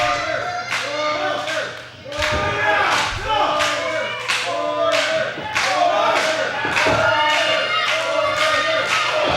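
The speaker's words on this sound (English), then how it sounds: "The crowd chanting for Morgan" A wrestling crowd chants a wrestler's name in a loud, rhythmic, repeating cadence. The chant fills the arena for the whole stretch, with a brief dip partway through.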